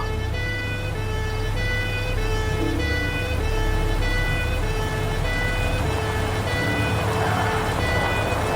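A police car siren wails continuously at close range, its repeating tonal cycles loud and steady over low vehicle rumble, with no talking.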